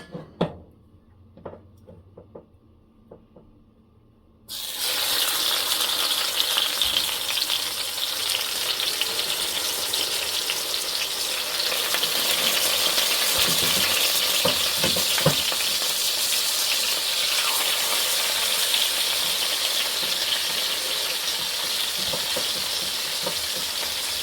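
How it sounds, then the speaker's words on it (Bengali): Fish rubbed with salt and turmeric frying in hot mustard oil in a pan, a loud, steady, dense sizzle that bursts in after a few seconds of quiet handling clicks and carries on unbroken, with occasional pops and stirring. "এখন আমি মাছটা ভেজে নিব"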